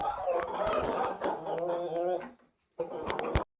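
Chickens cluck and murmur up close in a busy, chattering flock, broken by a brief silence before the clucking resumes.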